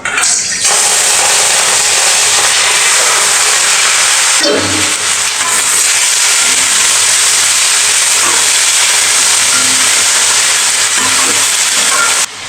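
Chopped vegetables tipped into hot oil in a kadai (wok), a loud, steady, bright sizzle starting abruptly after a brief clatter and holding strong throughout, close up with no speech.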